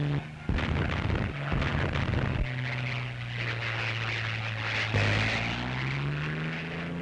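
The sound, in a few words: Tank Buster gun firing in action, wartime newsreel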